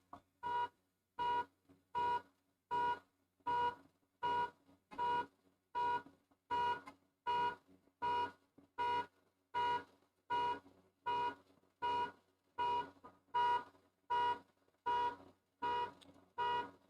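A car alarm sounds alone in a steady, repeating cycle of evenly spaced electronic honks that continues throughout, heard from a moderate distance.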